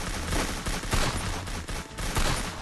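Rapid automatic gunfire from the battle-royale game Free Fire, loud continuous bursts of shots rattling close by with barely a pause throughout.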